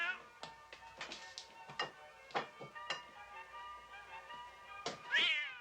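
A cat meows and yowls off-screen in a 1971 film scene, as if struck by thrown fruit, giving several short cries spread across the clip and a louder, rising wail near the end.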